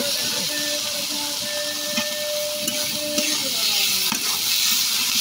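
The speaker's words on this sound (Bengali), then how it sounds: "এই যে এখন শিমটা ভেজে নেব আমি।" Beans fry in a pan with a steady hiss and sizzle close by, broken by a few light clicks of a utensil, and faint tonal hum runs underneath.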